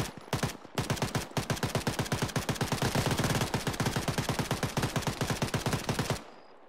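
Sustained automatic gunfire in the video game Arma 3: a rapid, evenly spaced burst of loud shots lasting several seconds, preceded by a couple of separate short bursts, then cut off abruptly.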